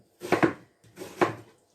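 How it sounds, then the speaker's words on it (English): A knife chops an onion into thick, chunky slices on a board, giving two close pairs of crisp thuds with a short pause between them. "I'm just chopping the onion pretty"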